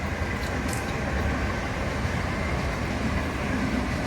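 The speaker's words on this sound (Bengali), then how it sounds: "আর তার সাথে ট্রেন দেখিয়ে দিলাম" A train passing outdoors under an open sky, heard as a steady, loud broadband rumble and clatter that holds evenly throughout without a clear approach or fade.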